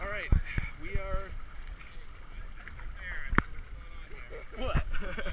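A kayak paddled on the ocean, with intermittent paddle splashes and watery swishes under wind noise, while people talk and laugh nearby.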